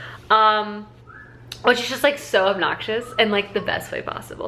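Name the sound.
person whistling in the background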